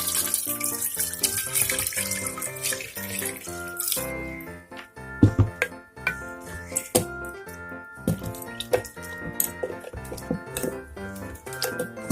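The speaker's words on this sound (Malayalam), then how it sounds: "ഈ വെള്ളം ഒഴിച്ചു കൊടുക്കാം" Water is poured into melted sugar in a pot while making homemade banana wine, with a loud continuous splashing gush for several seconds that breaks into irregular splashes and clinks.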